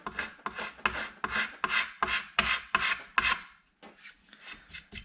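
Rhythmic hand sanding of a varnished wooden boat name board down to bare wood, roughly a dozen close, even rasping strokes followed by a few lighter ones after a short pause.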